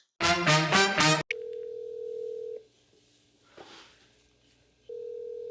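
A telephone call runs through a short burst of bright musical tones, then a long steady ringback tone that pauses and returns, with a soft rustle in the gap, close and fairly quiet before the call goes to voicemail.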